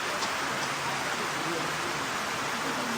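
Heavy rain pours down as a dense, continuous hiss with no break, and a faint voice sits beneath it.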